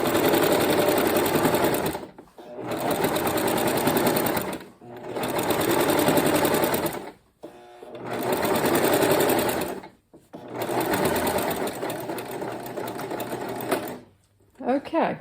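A sewing machine stitches a seam in four long runs of rapid, even whirring, each a few seconds long, with brief stops between them and a short burst at the end.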